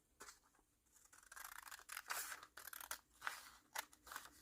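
Scissors snip through paper along a pencil-drawn line of a sewing pattern, a close, steady series of crisp cuts with short pauses between bursts, no talking.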